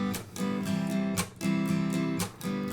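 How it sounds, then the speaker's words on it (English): Acoustic guitar strummed in a percussive slap pattern, bright chord strums broken by sharp muted slaps on the two and four counts, a steady close rhythm played alone. "It's like a percussive slap strum on the 2 and the 4 counts"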